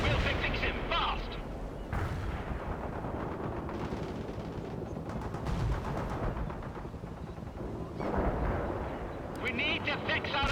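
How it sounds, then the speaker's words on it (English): Artillery fire and explosions in the real-time strategy game World in Conflict, a continuous roar of heavy blasts and booming impacts with scattered crackling gunfire, rising in a few louder bursts throughout. "Artillery taking heavy fire!"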